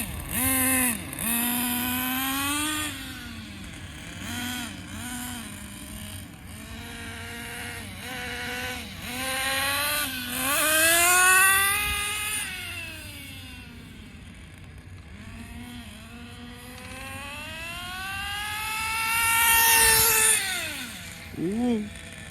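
A Traxxas Nitro Bandit nitro RC car engine runs close by, its whining revs rising and falling in repeated sweeping bursts with a rough, uneven low end.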